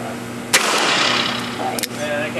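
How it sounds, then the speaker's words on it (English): A single loud gunshot cracks close by as a tennis ball is shot, followed by a long rumbling echo and a softer second report, with steady background noise throughout. "I'm gonna try shooting a tennis ball."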